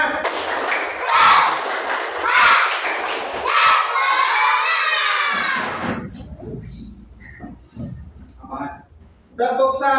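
A class of children in an Islamic religious education lesson performs a rhythmic clapping cheer, shouting together loudly with claps and thumps, followed by scattered voices and a teacher speaking.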